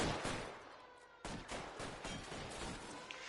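Shotgun blasts in the video game L.A. Noire, coming as a series of loud, booming shots over dense background gunfire that carries on throughout.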